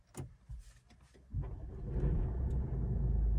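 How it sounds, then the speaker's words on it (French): A Mercedes A-Class diesel engine starts with keyless ignition: a few light clicks and a brief crank, then a loud, gruff diesel rumble settles into a steady, truck-like idle close by. "Un vrai bruit de camion au démarrage. Voilà, version diesel."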